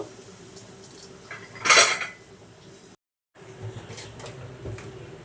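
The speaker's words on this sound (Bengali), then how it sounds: "এখানে যে কড়াইতে আমি ফ্রাইড রাইস করতে যাচ্ছি সেই কড়াইটি চুলায় বসিয়ে দিব" A metal wok set onto a kitchen stove while making basmati fried rice gives a single bright clanking clatter of cookware, with quieter kitchen handling noises after a short pause.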